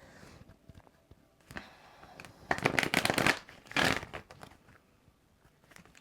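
Moon tarot cards being shuffled by hand, a few soft riffles building into two louder bursts of flapping card noise near the middle, close and alone with no talking.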